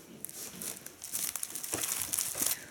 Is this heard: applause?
no